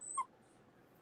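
A dog whimpers, crying for bread: a short high whine near the start, then fading into quiet room noise.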